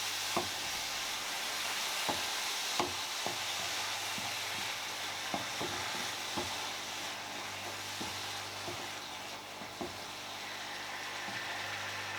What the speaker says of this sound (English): Give it all a good stirring, get it all mixed in, get those flavours infused.